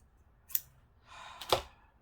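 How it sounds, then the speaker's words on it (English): Scissors snipping paper while embellishing CD covers for journal pockets, two short crisp cuts about a second apart, close and clear with a brief rustle between them and no talking. "I really need to clean and sharpen these scissors."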